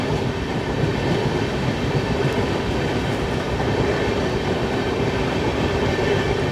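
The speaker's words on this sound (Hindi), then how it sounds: "धारवाड़ पे हम लोग रानी चेन्नम्मा एक्सप्रेस को ओवरटेक भी कर रहे हैं" A passenger train on an Indian route runs at speed past the Rani Chennamma Express near Dharwad, giving a steady, loud rumble and rail roar with faint wheel clatter throughout.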